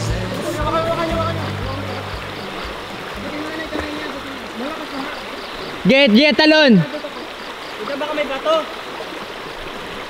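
A strong river current rushing down from a mountain makes a steady, loud broadband roar throughout, with a person shouting briefly over it partway through.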